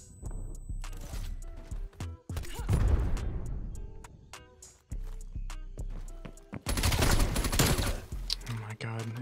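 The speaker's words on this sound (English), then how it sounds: "Is that a shotgun? Yep." Shotgun blasts ring out in a first-person shooter, loud sharp bursts separated by brief gaps, mixed with rapid gunfire, clattering footsteps and game sound effects.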